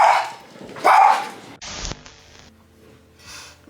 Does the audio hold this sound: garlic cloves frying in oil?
no